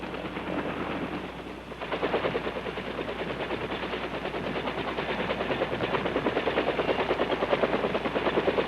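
Gunship helicopter in flight on a combat mission, its loud rotor chop pulsing steadily and close throughout with no talk, and the tone turns denser and more rhythmic after the first couple of seconds.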